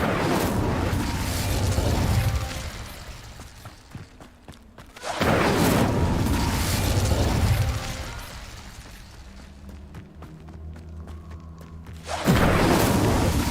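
In Hogwarts Legacy, the Incendio fire spell goes off in repeated bursts, each a loud whooshing blast of flame that swells and fades, separated by brief quieter gaps.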